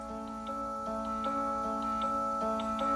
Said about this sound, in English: As you can see, that's the alarm.